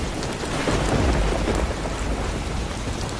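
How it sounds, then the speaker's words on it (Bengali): A cartoon thunderstorm with heavy rain: a loud, continuous downpour over a deep rumble of thunder that swells near the middle and then eases, with no voices. "বাহিরেও প্রচুর ঝড় বৃষ্টি শুরু হলো"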